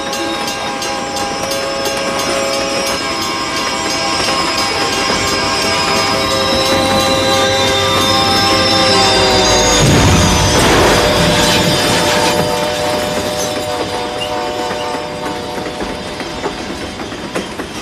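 Train striking a car at a rail crossing: a loud, sustained rolling rumble of rail cars swells into a sharp crunch and burst of breaking near the middle, then the heavy rolling continues and slowly fades, with no talk.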